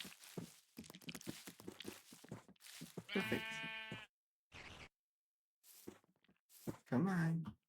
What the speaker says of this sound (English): Two sheep.